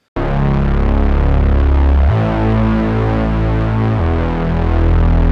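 Thick, buzzing detuned Reese bass from the Vital synth, with glide on, holding long notes that slide smoothly into one another, loud and continuous with no gaps between pitches, for slap house.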